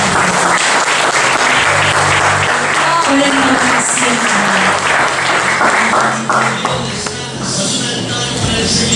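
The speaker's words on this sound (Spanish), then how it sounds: "Denle un aplauso al Señor." Church congregation applauding in praise of the Lord, a loud dense wash of clapping that fills the whole stretch, with voices and music mixed in underneath.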